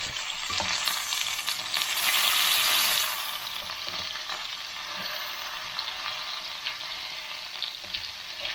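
Chicken and spinach sizzle and hiss while stir-frying in a pan, a broad steady crackle that swells louder for a few seconds with stirring and scraping from a plastic spatula, then settles into continuous frying.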